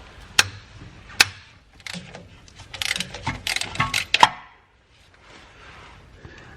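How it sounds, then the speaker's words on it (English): A ratchet wrench clicks in short bursts while unbolting 9/16 starter bolts on a Corvette during a manual transmission swap, with sharp metallic ticks and clanks close by, then a quieter pause. "I'm just going to unbolt it"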